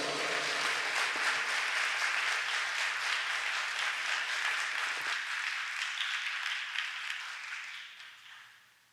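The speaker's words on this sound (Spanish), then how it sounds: "Recibamos con un fuerte aplauso." A conference audience gives a loud, sustained round of applause to welcome the speakers, dense even clapping that holds for several seconds before tapering off and fading out.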